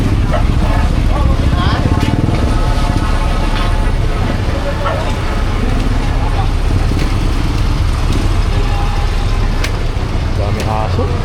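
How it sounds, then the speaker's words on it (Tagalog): Several dogs bark repeatedly outdoors, loud and close, overlapping with people talking and passing road traffic. "Dami aso."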